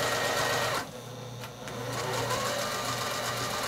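Sewing machine running steadily while free motion quilting a straight line, a loud mechanical whir that briefly drops away and then resumes at full pace.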